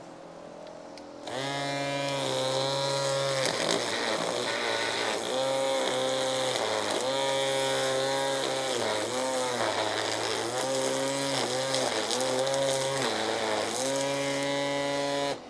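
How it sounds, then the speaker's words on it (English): Electric string trimmers, a Worx GT 3.0 and a Black + Decker, trimming grass along the edge of a house: a loud, steady motor whine starts after a second and runs continuously, dipping briefly as the line meets the grass. "We're going to trim along the edge of the house here, and then I'm going to show you both of them edging."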